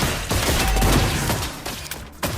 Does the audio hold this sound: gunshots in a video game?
yes